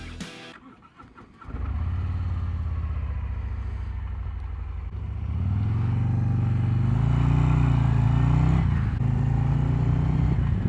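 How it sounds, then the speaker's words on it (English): A 2023 Harley-Davidson Road Glide ST cranks over and fires up, then settles into a loud, deep, close rumble that swells as the bike pulls away and rides on under a steady engine drone. "Time to crank up the 2023 Road Glide ST."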